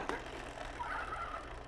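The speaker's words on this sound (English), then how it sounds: "here's a chicken" A Fisher-Price See 'n Say toy plays a chicken sound: a short burst of clucking, squawking fowl calls from a small speaker, heard alone and fairly close.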